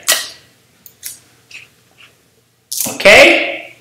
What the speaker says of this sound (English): And I'm going to put another piece of tape there.